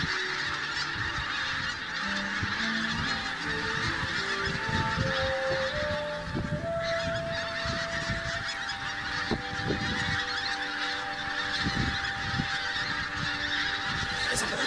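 Wild geese honk almost continuously during a goose hunt, a large noisy flock calling loudly and close by, layered overlapping honks over soft rustling, with no talking.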